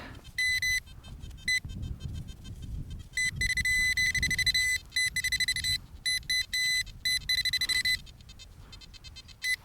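Rapid high-pitched electronic beeps from an XP Deus Lite metal detector picking up a signal pulse on and off in bursts over a low rumbling background, repeating irregularly throughout.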